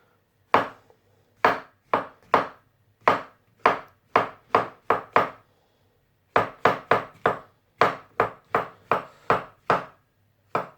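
A knife chopping mushrooms on a board, about twenty crisp, close, evenly spaced knocks in two runs separated by a short pause, with no talk.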